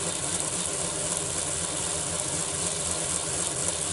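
A small electric motor in a model locomotive runs steadily on a rolling road, giving a continuous, even hum and whir with no break or change in pitch.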